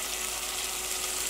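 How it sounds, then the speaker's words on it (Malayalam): A glass of hot water pouring into a cooking pan, a short steady splashing gush heard close and alone. "ഇനി ഞാനിതിലേക്ക് 1 ഗ്ലാസ് നല്ല ചൂടുള്ള വെള്ളം ചേർക്കാം."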